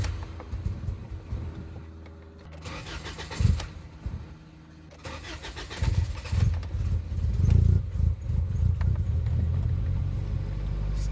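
A Honda Accord (CG5) engine cranks and turns over, then catches and settles into a low, rumbling run that grows steadier and louder toward the end; it has a starting issue when cold.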